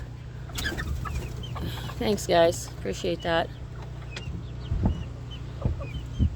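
Chickens cluck in short bursts close by in a coop, mixed with scattered bird calls over a steady low hum, as a person speaks briefly.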